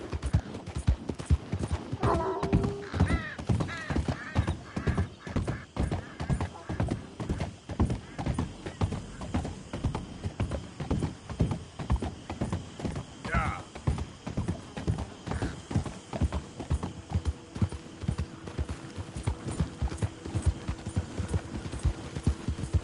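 Steady clip-clop of horse hooves trotting along, with a brief whinny early on and faint background tones.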